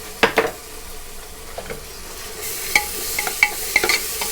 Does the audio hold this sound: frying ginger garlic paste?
yes